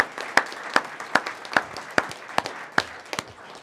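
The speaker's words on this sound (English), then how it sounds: "a round of applause for them" Audience applause for honors students at a board of education meeting: a thin, sparse clapping with a few distinct sharp claps standing out in a loose rhythm, moderately near.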